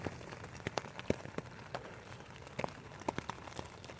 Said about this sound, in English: it's been raining off and on all day yesterday and night